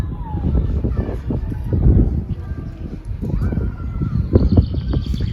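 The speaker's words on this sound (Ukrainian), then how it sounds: "Тут в колонках, до речі, грає музика. Ну, як музика, мелодія пташечки співають." Recorded birdsong played through loudspeakers gives a few faint, thin chirps and warbles. They sit in the background beneath louder rustling, footsteps and wind-like noise.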